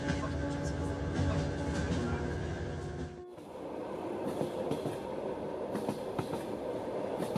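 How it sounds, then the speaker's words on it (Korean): A train rumbles steadily along the rails with a dense, continuous roar and faint rhythmic clatter, the tone shifting abruptly partway through. "날이 밝아도 여전히 철길을 달리고 있는 열차."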